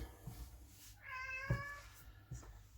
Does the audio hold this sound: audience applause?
no